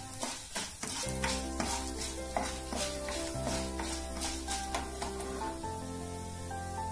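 Dried red chillies and urad dal frying in hot oil for tomato chutney, a busy crackling sizzle with repeated spoon-stirring scrapes and sustained ringing pan tones, no voices.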